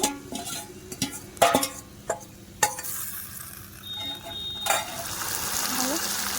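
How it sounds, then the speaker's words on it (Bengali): Marinated chicken pieces that have released their water are stir-fried in a pan for Bengali chicken kosha, with scattered spatula scrapes and knocks giving way to a steadier, louder sizzle toward the end. "মাংসটা ভালো করে কষে নেই"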